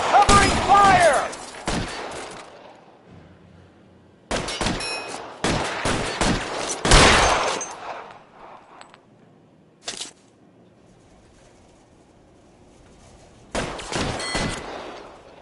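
Gunfire in the video game L.A. Noire, a 1940s Los Angeles crime shootout: several loud bursts of pistol and rifle shots with metallic ricochet clangs, separated by quiet gaps, with a shouted voice at the start.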